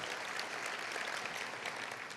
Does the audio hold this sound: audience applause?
yes